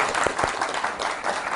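A school broadcast audience breaks into sustained applause, a dense wash of many hands clapping that stays steady and fairly loud from start to finish.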